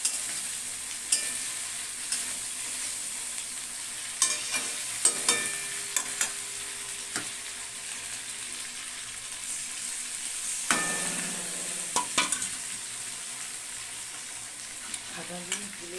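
Chicken curry reheating in a pan gives a steady, soft sizzle, broken by scattered scraping clicks as it is stirred, with no talking.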